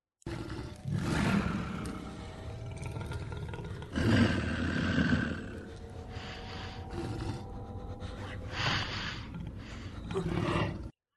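Werewolf roaring in a horror film, loud guttural bursts and snarls repeating in waves with rumbling breaths between them, set over a dramatic score.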